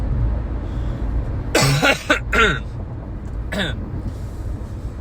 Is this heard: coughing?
yes